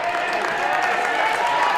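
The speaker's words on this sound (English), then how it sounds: "Abby Nichols gets a rousing round of applause from the Panther fans as she checks out" Panther fans applaud and cheer for a girls' high school basketball player leaving the floor in the warm Centennial Gym, a steady broadband wash of clapping and crowd noise holding evenly for the whole short stretch.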